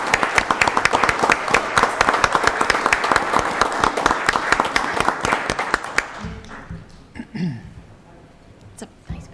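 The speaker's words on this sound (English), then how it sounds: "can I ask for one more round of applause for those that keep us so safe every day?" A board meeting room breaks into loud, close applause for public safety staff, sharp individual claps for about six seconds, then it thins out into scattered claps and murmurs.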